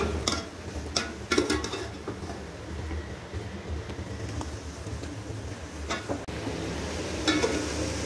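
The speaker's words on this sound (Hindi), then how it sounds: "अब आपने इसे अच्छी तरह फ्राई कर लेना है आपने।" Chicken frying in a pan with six whole chillies sizzles steadily at moderate level, with occasional sharp clinks and stirring scrapes of a utensil and no voices.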